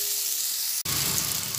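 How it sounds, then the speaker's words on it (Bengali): Potato pieces fry in a pan with a loud, steady sizzle close by, broken by a split-second dropout midway before the hiss resumes. "আলুটা কিছুটা ভাজা হোক।"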